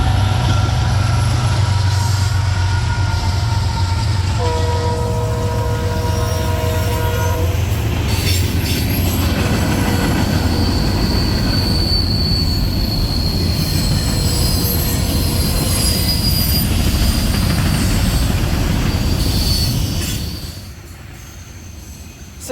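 A freight train led by Norfolk Southern locomotive 6957 rolls past close by, its wheels squealing steadily on the rails over a heavy rumble, with a horn-like tone early on before the noise drops away.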